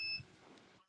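A short electronic beep on a phone call sounds briefly at the start: a pair of thin, steady tones lasting a fraction of a second, then faint line noise.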